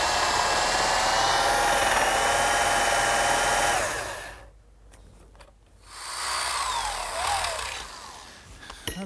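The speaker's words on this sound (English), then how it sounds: "what I've just done is drilled a hole in this metal bracket" A power drill boring a hole through a metal bracket for a garden swing build, a loud high whine with shifting pitch, a short pause, then a second burst of drilling.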